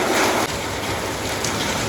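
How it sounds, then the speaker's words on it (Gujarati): Rain pouring steadily on a farm in Bardiya during the monsoon, a dense continuous hiss that holds at a loud, even level for the whole stretch with no other clear sounds. "વરસાદ વરસવા માંડ્યો"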